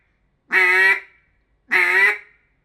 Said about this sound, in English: every single note in your whole duck call vocabulary is based off that quack